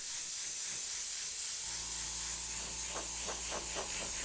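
An airbrush sprays paint through a stencil with a steady, loud, continuous hiss, joined partway through by a low steady hum and a few faint rhythmic pulses.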